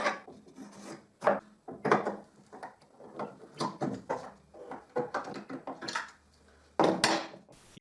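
Homemade wooden Moxon vise coming off a workbench, heard as a close run of irregular wooden knocks, scrapes and rubbing clunks with short pauses between them.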